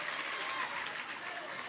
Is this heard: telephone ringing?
no